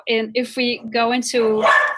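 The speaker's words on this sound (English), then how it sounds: "sorry about the barking noise." A dog barks several times in a row, close and fairly loud, as short yapping bursts that overlap someone speaking indoors.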